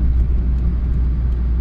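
A Mercedes car with an M111 engine running while driving, with a suspected blown head gasket and knocking. A loud, steady low engine and road rumble drones from inside the car, with no voices.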